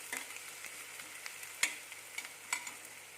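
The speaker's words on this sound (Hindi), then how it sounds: "जब तक प्याज पकते, साथ साथ ये प्याज पकेंगे तो साथ साथ ये हरी मिर्च भी पक जाएंगी।" Onions and green chillies fry in a pan with a soft, constant sizzle, broken by faint stirring taps and a couple of sharper clicks, close and without talk.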